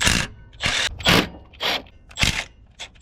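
A ratchet wrench is used on the bolts of a dipstick tube bracket on an old truck during a transmission replacement. It makes several short, loud bursts of clicking, separated by brief pauses.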